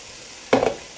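A sudden burst of sizzling as mushrooms land in a hot pan, a brief loud crackle that quickly settles back to a low hiss.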